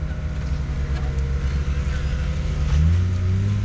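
A very loud car, modified and fitted with Optima batteries, rumbles steadily at close range, its deep engine note rising in a rev near the end with no talking over it.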